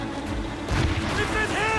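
Cannon fire from Royal Navy ships slams into a sailing ship in the Assassin's Creed Rogue game, a heavy booming impact rising midway and rumbling on under shouted crew voices and battle noise.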